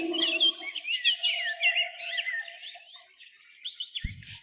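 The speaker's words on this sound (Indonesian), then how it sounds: "Ada suara burung pipit." Sparrows chirp and twitter continuously in a busy, bright chorus at moderate distance, with a soft low hum underneath and a brief thump near the end.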